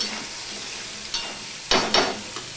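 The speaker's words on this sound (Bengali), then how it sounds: "সম্পূর্ণটা আমি মিশিয়ে নিলাম" A soft sizzle runs underneath while a utensil scrapes and knocks against a pan a few times as food is stirred.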